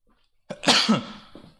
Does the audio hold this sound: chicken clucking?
no